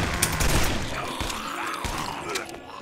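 Gunfire in the video game Guns, Gore & Cannoli: a dense, rapid burst of shots rattling close and loud over a noisy battle din, with no talking.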